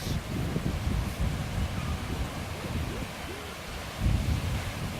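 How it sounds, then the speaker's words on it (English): Large ocean waves 15 to 20 feet high break on a Big Island, Hawaii shore, a deep continuous rumbling roar with surges near the start and end, mixed with gusting wind noise on the microphone. "these waves are breaking probably 15 or 20 feet high"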